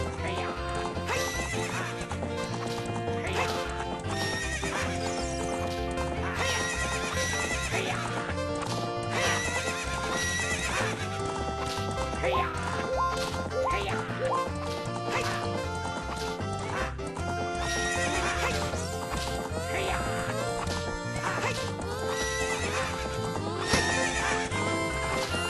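A horse whinnies and hooves clip-clop amid busy game music and effects in The Legend of Zelda: Ocarina of Time, with a dog barking at times.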